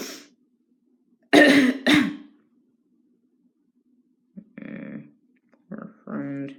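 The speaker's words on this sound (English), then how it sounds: "Don't like the sound of your cough, Emily" Emily coughs in two sharp, loud bursts, then after a pause gives a few rougher, throaty coughs and throat clearing, close by with a faint hum underneath.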